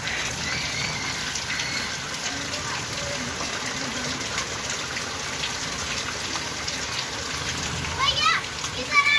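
Rain falls steadily on rooftops during a downpour, a continuous hiss of drops and splashing water, with children talking and playing nearby and a few brief louder splashes near the end.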